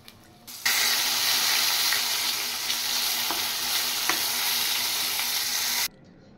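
Prawn balls dropped into hot oil fry with a loud, steady sizzle that starts abruptly, holds evenly with occasional crackles, then cuts off.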